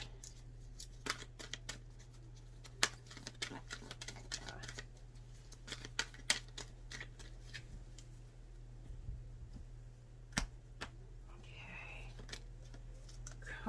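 Starseed Oracle and Secret Language of Light cards being shuffled, a soft run of papery flicks and sharp card taps scattered irregularly across the clip, close and quiet, with faint low murmuring near the end.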